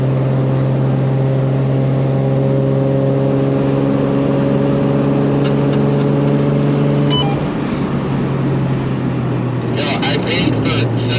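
Toyota Supra with a 2JZ engine revving high toward 7,500 RPM on a mountain road, a loud steady drone with layered tones that drops off near the end, heard close from inside the car.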